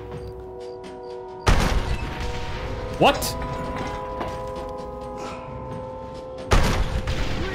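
Heavy booming cannon blasts in Red Dead Redemption hit at the start and again near the end, with a sharp crack between, over steady game noise and a brief spoken word.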